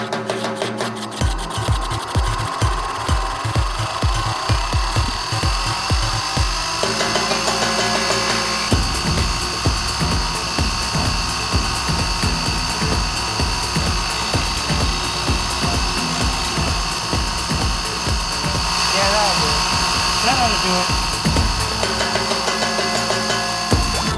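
Power tool cutting notches for hose clamps in a rattan SCA sword, a loud buzzing motor with rapid repeated bursts of cutting, pausing briefly and resuming.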